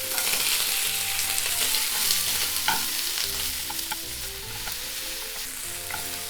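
Carrot, onion and cabbage fry with pork in a pan for Japanese yaki udon, giving a continuous loud sizzle with occasional stirring clatter, close and without talk.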